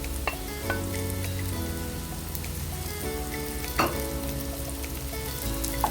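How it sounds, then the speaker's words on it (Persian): Chopped green beans sauté with onion and garlic in a hot pan, giving a steady, close sizzle with occasional stirring clatter and no voices. "بسته لوبیا سبز خرد شده به پیاز اضافه کنیم"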